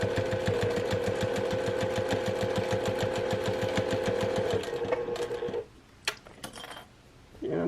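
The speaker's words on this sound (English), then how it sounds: "I'm just stitching that right close to my edge there" A sewing machine stitches close to the fabric edge of a placemat, a loud steady whirring run of needle strokes that stops abruptly, followed by a few small handling clicks and knocks.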